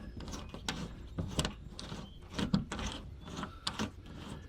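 Plastic latches on the air filter cover of a John Deere 1585 mower being turned and snapped open, a series of close, sharp clicks and clacks with small scraping sounds between.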